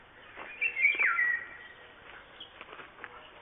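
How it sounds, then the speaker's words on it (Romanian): A nightingale sings in a park in the morning, its bright, rapid phrases fairly loud near the start and then thinning into scattered softer notes against quiet background. "Privighitoare face un concert de dimineață"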